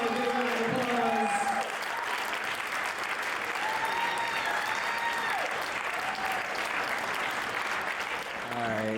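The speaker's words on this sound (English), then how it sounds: "Let's give them a big round of applause." Wedding reception guests applaud the couple after a toast, a dense, steady wash of clapping that fills the room for several seconds, with a voice briefly audible at the start and end.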